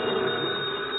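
A telephone rings in an old radio crime drama, a continuous, band-limited bell trill that lasts the whole second, heard alone without voices.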